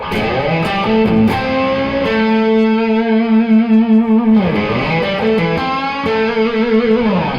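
An electric blues guitar riff played with the tone and volume knobs both on 10, loud and distorted. Sustained bent notes and chords ring out with a repeated pattern of short stabbing notes, and no voice is heard.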